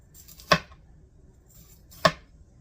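A knife chops through a vegetable on a cutting board twice, each stroke a crisp, close thunk about one and a half seconds apart, with quiet in between.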